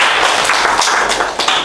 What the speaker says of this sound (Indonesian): Oke, tepuk tangan buat Mas Panda ya.